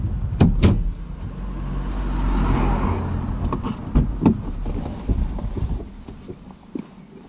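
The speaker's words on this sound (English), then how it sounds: "I'll let this car come by." A car drives past on a road during a driving lesson, a soft whoosh swelling in the middle and fading, with wind noise and a few knocks and clicks nearby.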